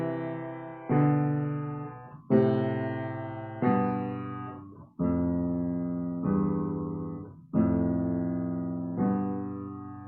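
Piano playing a composed melodic line doubled a third above, in paired notes, eight sustained chords struck one after another in a steady slow rhythm, each decaying before the next, played alone and clearly.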